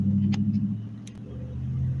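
A car rolls past on a street at night, a steady low engine rumble and tyre drone holding close throughout with a couple of faint higher ticks over it.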